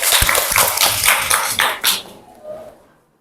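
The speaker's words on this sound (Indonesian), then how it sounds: "Berikan tepuk tangan kepada Dandi." Applause breaks out in a school classroom for a student who answered correctly, dense overlapping claps for about two seconds, then tapering off into quiet.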